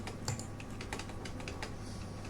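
Rapid clicking of a computer keyboard during a Photoshop lesson, steady and close, with dense irregular keystrokes and no talking over them.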